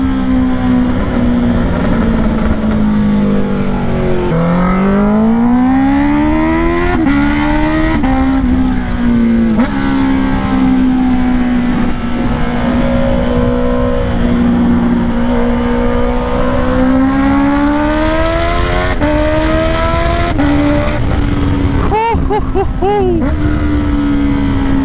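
Honda CBR650R motorcycle with a Black Widow exhaust and the dB killer removed, roaring loud and continuously with rising and falling revs, a sharp crackling burst near the end, and a voice talking over it.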